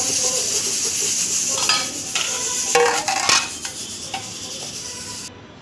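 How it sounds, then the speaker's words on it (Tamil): Brinjal curry with tamarind water is stirred in a pan, with a constant sizzle and a run of scraping, clinking utensil strokes against the metal in the middle, nearby and fairly loud, without speech. "இதை நல்லா மிக்ஸ் பண்ணிவிட்டு"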